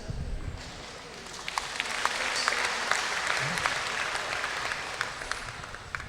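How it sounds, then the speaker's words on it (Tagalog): A church congregation at a leaders' formation gathering breaks into applause, with scattered claps growing into steady, moderately loud clapping that lasts about six seconds. "Salamat kayo na nagapalakpak."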